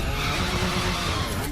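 An Alfa Romeo drifting in the racing game The Crew 2, a continuous loud roar of engine and tyre skid with no pauses.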